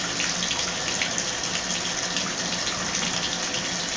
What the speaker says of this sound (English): when you turn the water back on, you see how I'm getting some water pressure up there